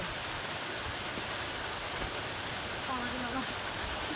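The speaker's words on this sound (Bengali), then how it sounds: "দেখো হঠাৎ বৃষ্টি শুরু হয়েছে" Steady, even rain pours down continuously, a dense hiss with a faint voice briefly audible beneath it.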